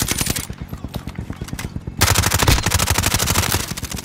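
Rapid automatic gunfire from Call of Duty Warzone rattles in a loud, continuous stream of close bursts, with a denser, heavier volley taking over halfway through.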